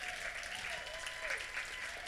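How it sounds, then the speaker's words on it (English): Steady audience applause fills a Q&A event for Gloria Allred and the producers, a dense wash of many hands clapping continuously at moderate distance for about two seconds, with no voices on top. "Please give a round of applause to Gloria Allred and as well as the producers"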